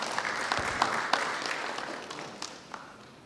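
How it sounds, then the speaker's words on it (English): A conference audience at a Grenada ICT Week tech forum applauds a presenter, a steady patter of clapping that tapers off over a few seconds, heard fairly close with no talk over it. "Let's give Brent a round of applause"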